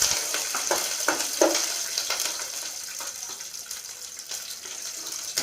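Peanuts sizzle steadily in hot oil for pulihora, a continuous close hiss with small crackles and occasional stirring clinks, no voices over it.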